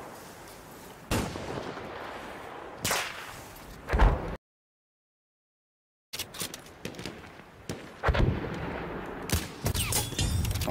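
Sharp, loud sniper rifle shots in the video game Battlefield 1 crack in separate bursts, several sudden bangs spaced apart, with a brief stretch of total silence in the middle.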